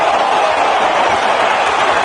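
Boxing arena crowd roaring in a dense continuous swell during a Tyson Fury versus Deontay Wilder heavyweight bout, loud and sustained, with the distant murmur of a commentator's voice mixed in.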